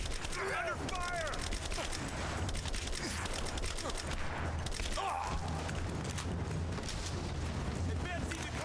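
Sustained gunfire and artillery-like booms from a firefight in Rise of the Tomb Raider, dense and continuous, with shouted radio-style voices over the din.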